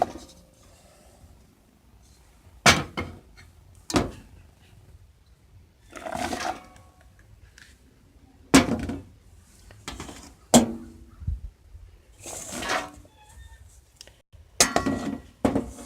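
Leftover cooked turkey dropped into a pan for turkey soup, giving scattered soft clinks and thuds of meat and metal with kitchen handling noises, fairly close and unhurried, no talking.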